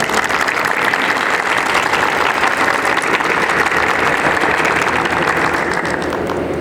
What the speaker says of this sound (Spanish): Les pedimos con un fuerte aplauso, por favor.